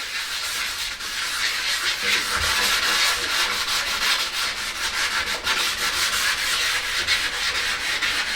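Continuous wet scrubbing of sandpaper against a model fighter aircraft surface, a steady rapid rasp mixed with hissing water, close and fairly loud with no pauses.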